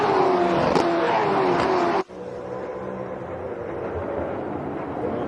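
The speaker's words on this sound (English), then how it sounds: "listen to them under braking as they go back down through the gears. Really hear all 8 cylinders firing at the moment" V8 race cars at Queensland Raceway roar loudly through a braking zone, a dense engine blare with a sharp cut near two seconds, then a lower, rumbling burble as the field drops back down through the gears.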